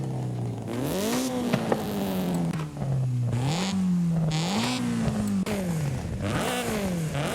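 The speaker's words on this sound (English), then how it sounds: "let's go and hear the stock engine" The stock engine of an Acura Integra Type R in Forza Horizon 5 revs up and down repeatedly in rising and falling sweeps, loud and close, with mechanical clatter between the revs.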